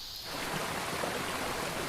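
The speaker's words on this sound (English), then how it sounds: "the rains start up again as I ascend the trail" Steady rain falling along a waterfall trail in Japan, a dense, even hiss of water that swells in after a quieter start and continues without pause.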